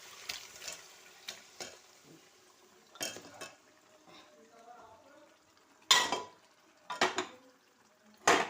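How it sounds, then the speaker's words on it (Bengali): Country chicken meat tipped into a pan of fried, oil-releasing spice paste and stirred, with sharp scraping and clattering bursts of utensil against pot amid a soft sizzle, loud strokes spaced irregularly and separated by quieter cooking sounds. "এখন আমি এই মাংসটা ঢেলে দেব।"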